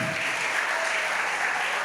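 An audience at a ceremony honouring the 90th anniversary of a first school day applauds nuns from a congregation, a steady dense clapping from a crowd with a faint voice underneath.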